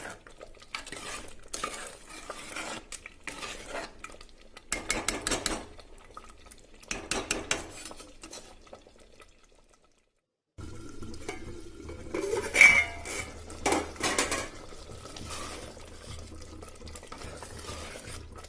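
A lidded pot of curry being stirred now and then to keep it from sticking, with bursts of rhythmic spoon scraping and clinks against the pot, a brief silent gap midway, fairly quiet and close.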